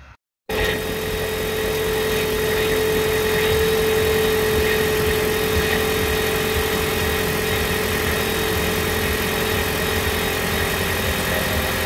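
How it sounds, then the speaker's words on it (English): A 2018 Toyota Auris Hybrid engine starts and settles into a steady, droning idle with a constant hum and rumble, continuous and fairly close. "Now we'll start the engine."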